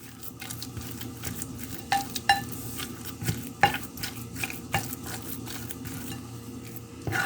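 Cooked yellow sweet potato being mashed smooth with a ladle in a pot, soft scraping and stirring with irregular knocks and clinks of the ladle against the pot, close and moderately loud, no talking.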